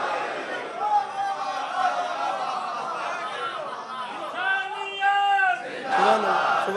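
A crowd gathered at a Shia majlis in an imambargah roars back in answer to the Naara-e-Haideri chant. Massed voices swell loudly in the middle over a steady background murmur of chatter.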